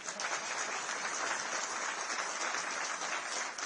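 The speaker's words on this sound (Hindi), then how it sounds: "तालियां धीरे बजी।" Soft, distant audience clapping at a Delhi political event, a continuous patter of many hands held at an even level for a few seconds with no voices.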